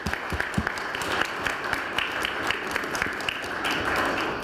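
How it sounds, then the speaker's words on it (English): Audience at a fisheries workshop applauds, a continuous bed of clapping with a few louder close claps standing out, swelling slightly toward the end. "Let's give them a round of applause for all their hard work"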